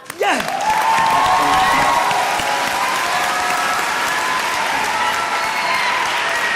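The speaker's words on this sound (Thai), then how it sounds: "ขอเสียงปรบมือครับ" Studio audience applause on a Thai television talent show after a basketball trick-shooting act, loud continuous clapping from a large crowd with a faint tonal musical sting underneath.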